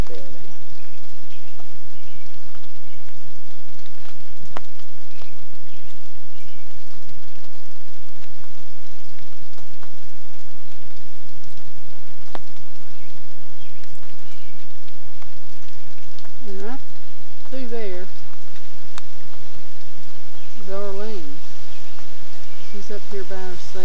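Steady rain patters down at a lake campsite on Lake Greeson in 1988, a loud continuous hiss with sharp drips and taps on surfaces, with voices talking faintly at times under it.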